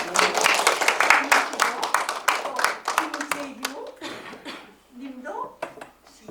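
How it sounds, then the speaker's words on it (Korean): Audience applause at a Korean art song concert as a resident poet stands to be acknowledged during guest introductions, a dense burst of claps that thins out over several seconds, with voices murmuring underneath. "일어나셔서 박수 한번 받으시죠"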